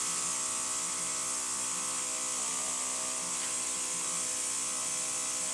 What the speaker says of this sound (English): then I will airbrush over the top, keeping the airbrush moving in nice circular movements